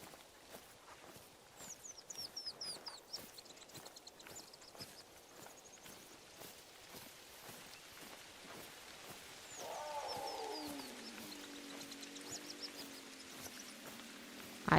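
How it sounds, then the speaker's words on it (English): In the hunting game TheHunter, set in a Peru reserve, distant big cat growls and calls rise over a bed of game ambience with repeated footsteps, the cat sounds swelling toward the end. "I hear cat sounds."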